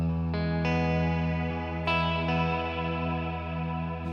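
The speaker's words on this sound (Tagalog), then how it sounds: "So, this is M-Wave Mini Universe, budget meal na reverb pedal." A guitar played through an M-Wave Mini Universe budget reverb pedal with no amp: sustained chords swell and ring out, each change leaving long, smooth reverb trails that linger and overlap, alone with no talk.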